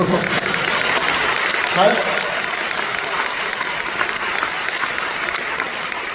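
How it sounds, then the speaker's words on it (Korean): Audience applause fills a church hall during a film director's lecture at Kumnan Church, a dense, steady wash of many hands clapping that holds evenly throughout with no voices standing out. "여러분 박수 한번 쳐주세요."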